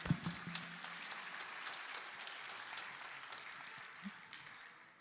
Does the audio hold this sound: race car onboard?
no